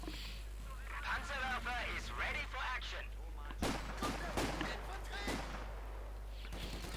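Sniper and gun shots in a Company of Heroes 2 real-time strategy match ring out as a short cluster of sharp cracks, heard beneath a commentator's ongoing talk.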